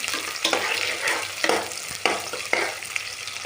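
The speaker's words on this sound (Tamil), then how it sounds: "நல்லா ஃப்ரை பண்ணிக்கலாம்" Onions fry loudly in a pot for Hyderabadi chicken dum biryani, a dense close sizzle with several bursts of stirring scrapes at regular intervals.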